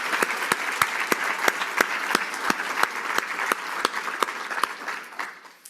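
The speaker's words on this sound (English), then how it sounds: "let's have one final round of applause for all of our exceptional preceptors this year" Audience applause at a pharmacy graduation awards ceremony: steady clapping with a few sharp, close individual claps standing out in a regular rhythm, fading away toward the end.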